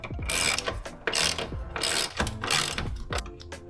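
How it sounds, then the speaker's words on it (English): A ratchet clicks rapidly in several loud bursts as the top strut bolts are loosened on a 2024 Mustang GT, close up with brief pauses between pulls. "we can start loosening up the top 3 bolts here that hold that strut into position"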